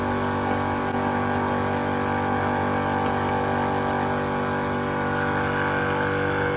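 An electric pump circulates dissolved descaling acid mixed with water through a boiler's primary and secondary heat exchangers, giving a steady, continuous hum and churning liquid drone with no pauses and no talking.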